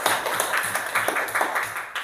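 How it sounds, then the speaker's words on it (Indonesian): Classroom of students clapping for a group's presentation, a steady, dense patter of hands filling the room for a couple of seconds. "Kita berikan tepuk tangan dulu"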